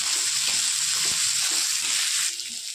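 Onion crackles and sizzles in hot oil with cumin and garlic, a steady close hiss that fades slightly toward the end.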